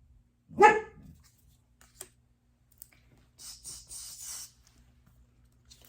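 One sharp, loud dog bark near the start, then quiet with a few small clicks and a brief rustling noise.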